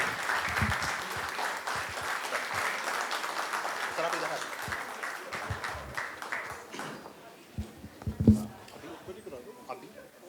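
A standing audience applauds in honour of Rakesh Bakshi at a session for lyricist Anand Bakshi; the clapping is dense at first, thins out after about seven seconds, and ends in a few scattered claps and knocks.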